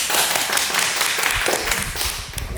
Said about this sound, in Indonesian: mungkin tepuk tangan ya buat Dani